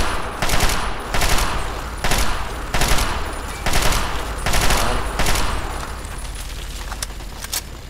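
Repeated bursts of automatic gunfire in Fallout 3, roughly one burst per second, fairly loud and close, with a faint hint of metallic clinks between volleys.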